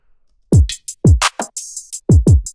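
A simple drum beat plays alone, with punchy kick drums, a snare hit and crisp hi-hats, after a short silence.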